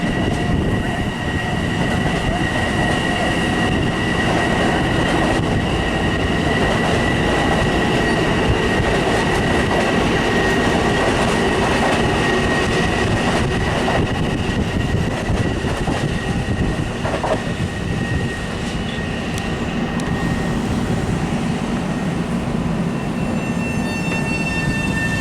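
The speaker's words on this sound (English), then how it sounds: "here comes one of the first Montauk reverse cannonballs" A Long Island Rail Road Montauk reverse cannonball train roars past close by, a loud, steady rumble with wheel clatter and metallic rail noise filling the whole stretch, with no one talking.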